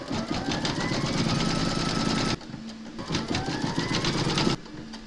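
An embroidery sewing machine stitches a large Mrs Claus appliqué design with steady rapid needle hammering and motor whir, loud and close, pausing briefly mid-run before resuming at the same pace.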